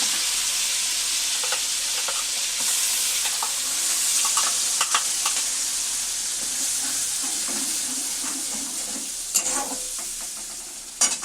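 Onion, chili and ginger pastes fry in very hot oil over a lowered flame, giving a steady loud broadband sizzle with occasional stirring scrapes and a couple of sharper spits near the end.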